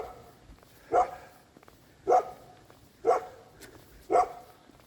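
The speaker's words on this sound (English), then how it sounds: "here comes that dumb dog again that just does nothing but sit out here and bark at nothing." A neighbour's dog barks outdoors in four single, evenly spaced barks, each about a second apart, moderately distant over a quiet background.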